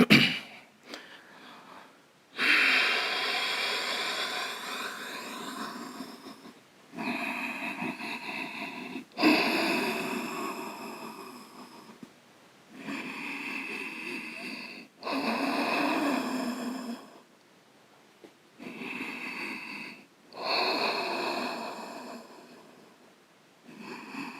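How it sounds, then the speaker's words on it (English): Deep yoga breathing during an intermediate to advanced class, slow audible inhales and exhales alternating in long, loud, breathy swells separated by short silences, close to the microphone, with no speech. "breathing in, breathing out"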